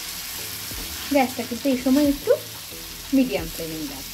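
Onion and tomato paste frying in a pan over medium flame, a soft sizzle under brief scraping stirs, with a voice speaking briefly over it.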